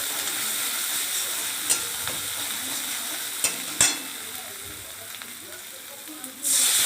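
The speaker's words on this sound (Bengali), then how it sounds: "নাড়াচাড়া করে ভালো করে মশলাটাকে কষিয়ে নিতে হবে" A spice paste with cumin powder is stir-fried in a pan, giving a continuous loud sizzle with a few sharp utensil scrapes and a brief louder hiss near the end.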